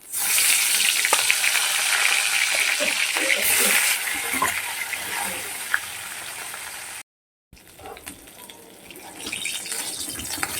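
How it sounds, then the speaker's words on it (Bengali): Fish heads fry in oil with a steady crackling sizzle, loud and close, with watery spattering; it drops out briefly near the end, then resumes more softly. "আর যে দুটো মোড়া আছে আমি একইভাবে ভেজে নেবো"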